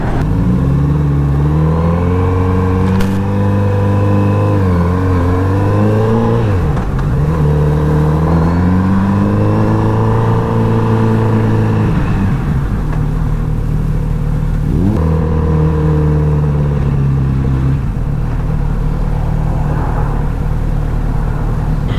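Kawasaki Z900RS motorcycle ridden on the road, its engine loud and constant with repeated rising accelerations and gear changes over about twenty seconds, plus wind noise.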